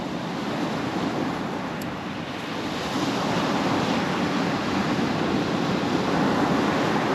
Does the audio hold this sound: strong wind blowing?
yes